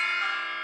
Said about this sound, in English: There's a little bell I always see where the bells or twinkles come in